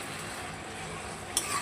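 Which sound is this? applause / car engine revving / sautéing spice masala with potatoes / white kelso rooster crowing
sautéing spice masala with potatoes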